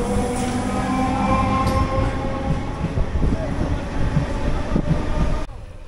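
A train at Saontha Halt, a small rural railway station, rumbles steadily nearby with a continuous low roar and some rattling, cutting off abruptly near the end.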